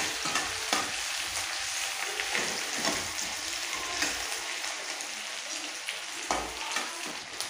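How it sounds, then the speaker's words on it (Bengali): Onions frying steadily in a pan while cooking a Bengali rui fish head and cabbage chorchori, a dense continuous sizzle with occasional soft stirring knocks, close and fairly even throughout. "পেঁয়াজটা একটু ভেজে নেব।"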